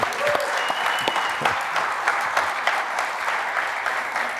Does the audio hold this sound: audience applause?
yes